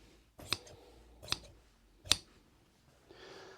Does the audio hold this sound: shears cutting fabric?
yes